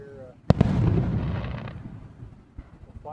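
Fireworks burst at a 250th anniversary celebration in Huntingdon, Pennsylvania: a sharp double boom near the start, then a long crackling rumble that fades, with a few fainter pops later and people talking in the background.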